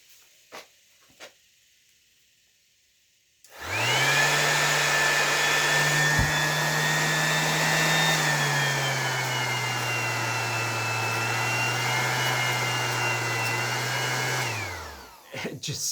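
A DeWalt variable speed sander starts up and runs with a steady, loud whine and hum, its pitch dipping slightly midway before it spins down; faint knocks come before it starts.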